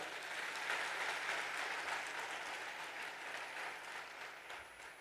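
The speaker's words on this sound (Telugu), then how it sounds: "నమ్మిన వాళ్ళు గట్టిగా చప్పట్లు కొడతారా?" A church congregation at a Sunday service claps loudly and continuously, a dense, even roar of many hands that holds steady and heard from a distance before tapering slightly at the end.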